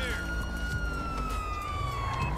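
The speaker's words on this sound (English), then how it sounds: "let me stop my siren" A police car siren in GTA 5 holds a steady high tone throughout, loud and continuous, with faint background noise beneath.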